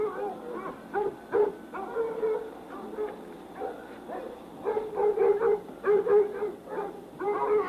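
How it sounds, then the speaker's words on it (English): Several hunting dogs bark, yip and whine in quick irregular bursts while chasing a deer through the woods, fairly close and loud, with no one talking. "The dogs are hot on the trail, chasing the deer in this direction."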